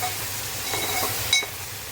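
A steady sizzle of green spice paste frying in a pan, with a few soft stirring scrapes and a brief clink of a utensil.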